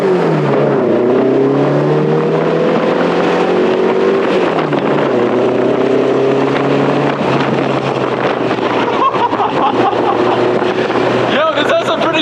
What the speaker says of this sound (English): Different sounds that the car is making.